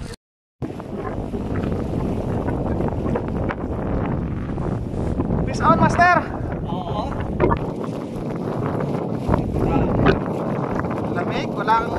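Steady wind buffeting a microphone outdoors while squid fishing, with a roaring rush throughout and a brief voice speaking over it.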